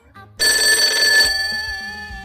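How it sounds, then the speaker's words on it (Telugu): A mobile phone rings loudly close by with an incoming call from an unknown number, its electronic ringtone starting after a brief quiet moment and holding steady bright tones that ease off slightly as it continues. "ఈ టైంలో ఫోన్ ఎవరు చేస్తున్నారు? అది కూడా అన్నోన్ నంబర్."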